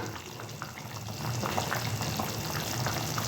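A pot of fish curry with pumpkin pieces boiling on the stove, a continuous bubbling simmer that grows slightly louder partway through, heard close up with no voices.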